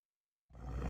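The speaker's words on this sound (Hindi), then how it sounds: "और हवा में उसकी दहाड़ गूंज रही थी।" A lion lets out one short, deep roar that bursts in after a stretch of silence and cuts off abruptly, loud and close.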